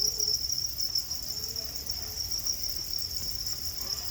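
Crickets chirp in a steady, high-pitched trill that carries on without a break, with quiet background noise and no talking.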